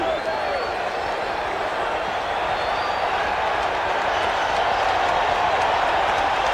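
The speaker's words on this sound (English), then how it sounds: "this crowd came here to make some noise tonight." Dense, steady roar of a large baseball crowd at Shea Stadium during Game 6 of the 1986 World Series, Red Sox at Mets, with continuous broadband cheering and applause that swells slightly toward the end, no break in the noise.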